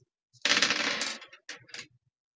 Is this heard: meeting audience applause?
no